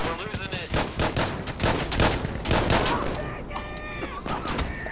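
Shotgun blasts ring out in rapid, repeated bursts during a chaotic firefight in a co-op video game, with layered gunfire and voices talking over the shooting.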